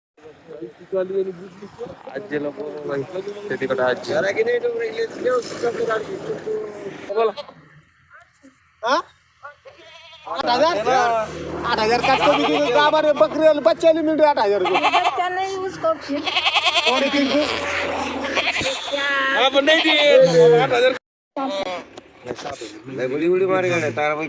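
Goats bleat over and over, many wavering cries overlapping like a herd close by, with a short quiet gap partway through.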